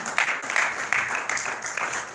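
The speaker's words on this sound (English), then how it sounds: "A round of applause for her." Audience applause for Joy Odote, CEO of Blue Pictures, at a movie release and watch party, a short burst of steady clapping at moderate distance with faint voices mixed in.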